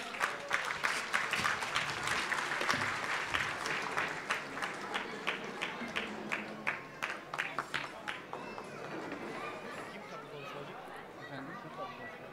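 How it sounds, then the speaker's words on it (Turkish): Audience applause at an iftar gathering, dense clapping that starts full and gradually thins into scattered claps, with crowd chatter and a voice heard through it. "Büyük alkışlarla"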